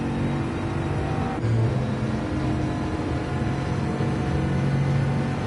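A Bugatti race car in a Le Mans Sarthe circuit racing video game, driven on the no-chicane layout during qualifying, its engine droning steadily under partial throttle while braking, with a continuous mid-loud roar and slight pitch shifts.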